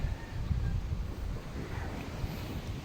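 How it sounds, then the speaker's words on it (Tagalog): Wind buffets the microphone at sea while waves wash and surge around a boat, a rough, gusty rush of noise with no speech. "Ang may alon, oh."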